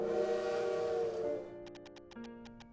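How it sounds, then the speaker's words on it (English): A steam train whistle sounds in the game Little Witch in the Woods: a sustained harmonic tone that fades and shifts pitch, followed by lighter chimes, with no talk. "It really is the sound of the train whistle."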